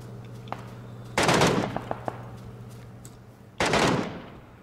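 Gunfire in PUBG: two loud bursts of rapid automatic fire, one early and one near the end, with a few single sharp shots between them over a steady low hum.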